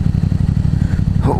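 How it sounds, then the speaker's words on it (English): A Yamaha FZ-07 with a Two Brothers full exhaust rumbles close by in a rapid pulsing burble of crackling pops, loud and short, ending in a brief rising whine. "It's backfiring like crazy."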